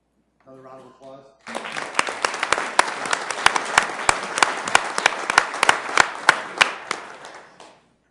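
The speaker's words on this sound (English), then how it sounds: "Another round of applause." A short burst of speech, then a room of people at a Sioux Falls city council meeting breaks into applause with distinct sharp claps, sustained for several seconds before tapering off.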